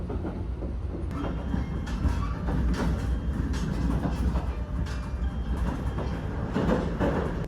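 The SL Yamaguchi steam train runs along steadily, a continuous rumble of rolling wheels and rail noise heard from inside the observation car, with faint clicks over the track.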